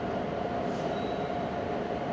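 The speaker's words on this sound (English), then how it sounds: "I think that might be an Acela that's coming in." An Amtrak Acela passenger train rolls in at a distance in heavy rain, a steady rumbling wash with a faint high squeal from the wheels partway through.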